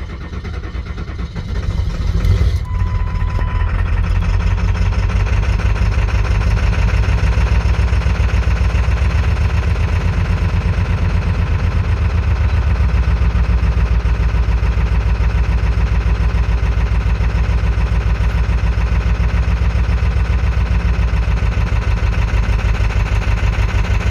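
A car engine with 2-gauge battery cables, woken through a CTS3 unit, cranks briefly and catches, then settles into a loud, steady, close idle rumble that holds unchanged for over twenty seconds without talk.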